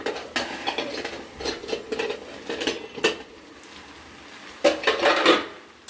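A lid comes off a pan of chela fish curry over high heat, and a utensil stirs it. Clattering metal scrapes and clinks ride over a soft sizzle, ending in a louder burst of frying and scraping. Nobody speaks.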